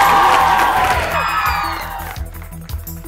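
Cheers and applause from the crowd at a Bollywood song launch event ring out loudly, then fade within a second as a thumping music beat takes over.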